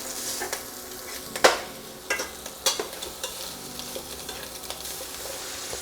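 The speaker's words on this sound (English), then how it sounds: "We're gonna start adding our sausage, and we're gonna cook this until it's brown." Sausage frying and browning in a pan for drunken noodles: a continuous sizzle broken by a few sharp spatula scrapes and taps as the meat is stirred and broken into crumbles.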